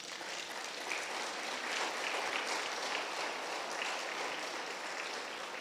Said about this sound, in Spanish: Dele palmas a Jesús